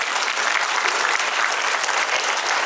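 Loud, dense applause from an audience at an Ayurvedic health talk, a steady wash of many hands clapping together without pause and with no speech on top.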